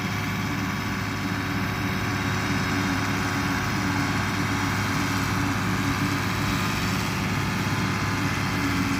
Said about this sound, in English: Wow, he's really going fast and swinging that tractor around.